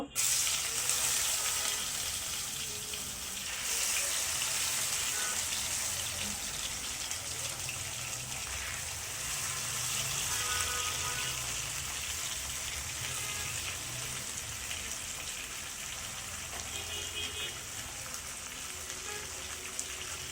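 Marinated chitol fish dropped into hot oil, sizzling and crackling steadily with a bright, hissing fry that stays fairly close and continuous throughout.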